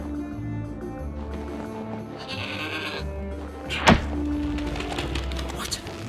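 A goat bleating in the video game Trine 4, with several loud, wavering bleats over a musical game soundtrack and a sharp thump partway through.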